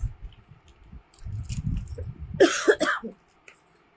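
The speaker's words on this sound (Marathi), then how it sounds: "हो थोडंसं हे झालंय, खोकला" A single close, harsh cough bursts out, preceded by low rustling and muffled handling sounds, then quiet.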